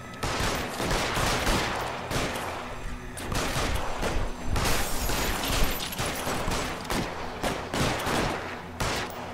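Gunfire in the video game L.A. Noire during a drug war shootout with police: dense, continuous volleys of close shots, some rapid bursts, loud and sustained throughout with no speech.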